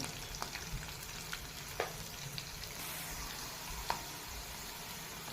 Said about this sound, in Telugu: ఈ పల్లీలు, ఆనియన్స్ అన్నీ మంచిగా గోల్డెన్ బ్రౌన్ వచ్చేంత వరకు వేయించుకోవాలి.